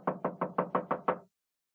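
Seven quick, evenly spaced knocks rap on a study door, close and clear, then stop and leave silence.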